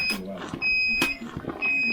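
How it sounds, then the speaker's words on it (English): A smoke detector chirps with repeated high electronic beeps in a home brewing space while an Irish red ale is being brewed, heard in three short bursts under someone talking close by. "Sorry guys, about that beeping now."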